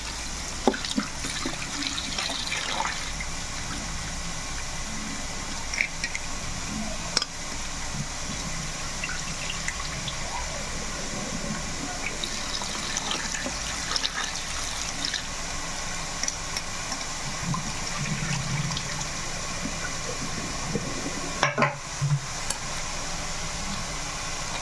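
Tap water runs steadily while raw chicken is washed in a kitchen, a soft continuous splash with brief drips and small clatters scattered through.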